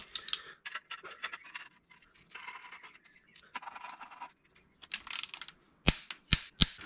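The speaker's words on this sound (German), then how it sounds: "Drehmomentschlüssel auf 10 Newtonmeter." Torque wrench tightening clutch pressure plate bolts on a Golf 2, a series of faint scraping and ratcheting clicks followed by three sharp, distinct metallic snaps close by.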